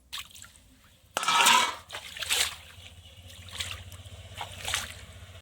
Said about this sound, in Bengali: মাছগুলো কেটে নিয়েছি, এবার ধুয়ে নেব।